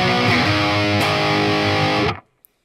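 Electric guitar run through amp drive distortion on a Line 6 Pod Go, a loud, thick sustained chord that rings for two seconds and then cuts off abruptly into silence.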